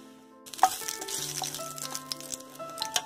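Black cumin seeds, two dried red chillies and a bay leaf sizzle in a spoonful of hot oil for an eggplant curry, a soft crackling hiss with small pops and spits close by, no talking.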